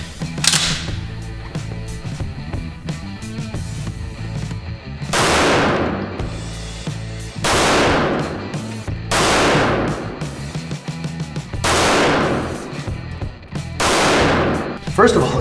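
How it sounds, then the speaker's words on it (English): A SIG 210 pistol fired at a shooting range, five or six sharp loud single shots spaced a couple of seconds apart, each ringing out briefly with a quiet hum between them. "let's put some rounds down range"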